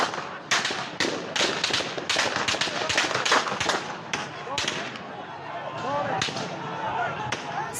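Gunfire during a mass shooting in Malek Shahi, a small town in western Iran: rapid cracking shots in quick bursts, harsh and loud, followed by shouting and commotion as the shots thin out.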